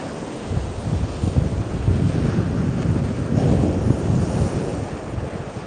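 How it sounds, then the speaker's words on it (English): Strong wind buffets a muffled microphone on Brighton beach, a continuous close rumbling roar that swells and eases with the gusts, with no voices. "I'm not sure what the sound's like because it's so windy. I'm hoping the mic is muffling a lot of the breeze."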